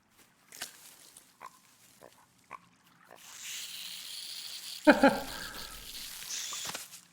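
A pig in the video game The Last Campfire gives a short grunting oink partway through, over soft game ambience with scattered small taps and a rushing background.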